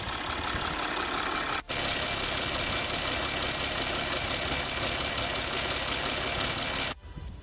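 A Citroën C6 engine idles with a completely worn idler pulley, giving a loud steady mechanical rumble and rattle heard up close, broken by two brief gaps.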